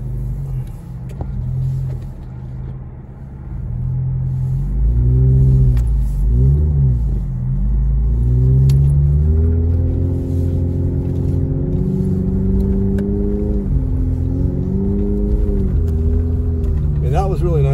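A four-wheel drive truck struggling through deep blizzard snow in Big Bear, its engine rumbling low and revving up and down repeatedly in labored surges, fairly close, with a person talking over it.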